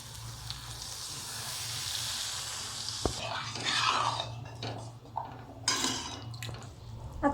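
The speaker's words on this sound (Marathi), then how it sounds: "आता यात आपण पाणी घालून परत शिजवून घेणार आहोत" Water is poured into fried masala gravy in a pan while making kofta curry, giving a steady sizzling hiss that turns into uneven bubbling and spattering bursts, close and moderately loud with no talking.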